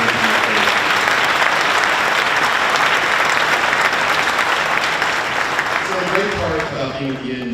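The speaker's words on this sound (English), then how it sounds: "one huge last round of applause for all these helpers" A large audience gives the helpers one last big round of applause, dense loud clapping sustained throughout before easing slightly as a voice begins talking near the end.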